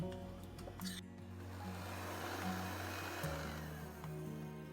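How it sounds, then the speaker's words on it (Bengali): An electric mixer beats butter until soft for a sponge cake batter, making a steady, loud motor whine with a droning hum that drops slightly in pitch partway through and runs without pause. "এবার আমরা বাটারটাকে মিক্স করে নেব যতক্ষণ এটা নরম না হয়"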